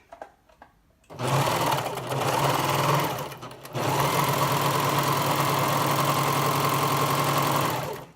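An Elna Lock Pro 5 DC serger sews a 5-thread safety stitch with overlock and chain stitch, whirring loudly and steadily in two bursts separated by a brief pause.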